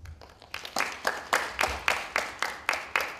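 A short run of evenly paced hand claps, roughly ten distinct sharp strikes at a steady rhythm, sounding fairly close and thin rather than a full crowd, at a lecture event.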